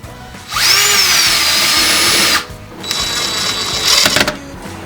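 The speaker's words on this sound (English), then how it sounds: "we're going to drill a few pilot holes." A power drill boring pilot holes into a door while a Kwikset lock is fitted, with one loud whining burst of almost two seconds followed by a second, slightly quieter run, close up with no talking.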